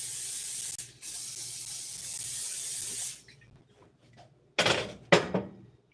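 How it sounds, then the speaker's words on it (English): A long continuous olive oil spray hiss lasting about three seconds, then quiet handling noises and two short bursts of clatter. "Take your high quality olive oil spray."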